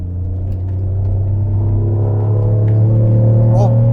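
An Alfa Romeo 164 V6 Cloverleaf engine under way gives a loud, steady deep drone that climbs slowly in pitch as the car accelerates, close and continuous.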